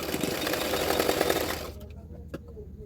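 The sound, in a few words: sewing machine stitching a blouse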